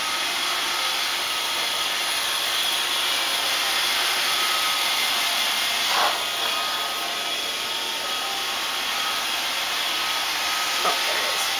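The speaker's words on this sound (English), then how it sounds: "Roomba does carpet. Roomba goes under the stairs." Roomba robot vacuum running over carpet indoors, a steady broadband whirring hum with a few faint bumps, continuous and fairly close.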